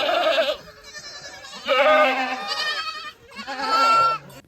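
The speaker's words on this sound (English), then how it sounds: "release the baby goats from the cave where they'd been kept overnight" Baby goats bleat three times in loud, wavering calls as a shepherd's helper releases them from a cave where they were kept overnight near Dharamshala, India. Short quiet gaps separate the cries.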